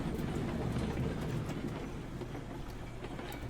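Train running on rails in Railroads Online, heard from on board: a continuous low rumbling roll with light rhythmic clacks, moderately quiet and unchanging.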